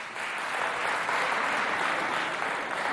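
Sustained, dense applause from a school audience at a student competition between Collège Abdoulaye Moussa and Collège Félix Eboué, a steady roar of many hands that continues evenly from start to finish.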